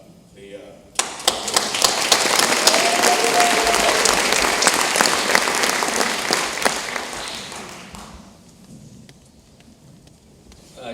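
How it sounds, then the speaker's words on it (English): A community meeting audience on opioid abuse breaks into applause for themselves. The clapping builds quickly, swells dense and steady, then tapers off after about seven seconds. A voice is briefly heard before the applause. "I think you guys should clap for you guys because you guys all came here"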